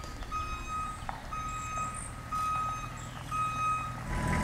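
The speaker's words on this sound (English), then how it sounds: "we've got this backup alarm here" A vehicle backup alarm at a quiet campsite on Jackson's Island beeps in repeated evenly spaced tones, steady and moderately loud over low outdoor rumble, with no talking.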